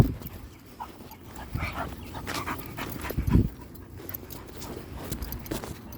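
A big dog on a retractable leash pants steadily outdoors, its breathing mixed with moving, rustling and footsteps, with one louder thump partway through.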